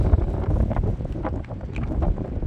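Strong gusting wind on an open lake during a fishing trip buffets the microphone with heavy low rumbling, loud and close for the whole moment, with no talking.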